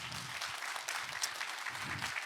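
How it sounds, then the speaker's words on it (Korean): A concert audience in Sejong gives steady applause at a touring choir performance. The clapping is fairly faint and dense and runs throughout, with a low murmur beneath. "우리 뜨거운 박수 한번 좀 부탁드리겠습니다"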